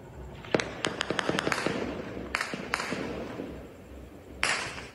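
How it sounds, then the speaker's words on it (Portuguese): Gunshots ring out during a gang shootout in Rio de Janeiro, a rapid volley of sharp cracks followed by scattered single shots and a final loud report, echoing in the distance. "No sábado, mais tiroteio."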